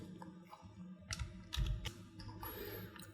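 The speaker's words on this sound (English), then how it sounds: "Now select the text and type whatever you want to." Keys clacking on a computer keyboard while text is typed into a motion graphics editor, a few scattered strokes and short bursts at moderate loudness with no voices.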